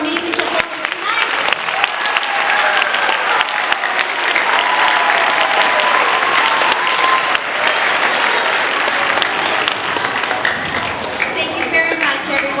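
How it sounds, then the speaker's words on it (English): A steady, full round of applause from the audience at an elementary school Grade 5 concert honors the performers and continues loud and unbroken throughout. "How about another round of applause for all of our amazing performers tonight?"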